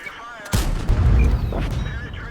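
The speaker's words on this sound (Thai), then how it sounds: "มีคนยิงเข้ามาไม่โดนนะ" A tank cannon shot in World of Tanks fires as a sudden loud boom, then a rumbling low roar trails off while the battle noise continues.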